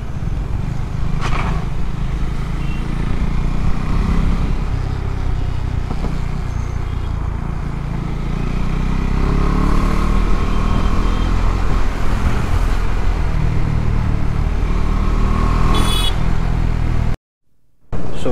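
KTM Adventure 390 motorcycle riding in road traffic, with a steady engine drone and wind rumble throughout, traffic passing around, and a brief dropout near the end.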